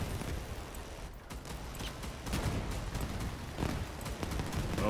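Sustained minigun fire in a shooter game, a dense, continuous roar of rounds with rising surges, loud and close, with no talk over it.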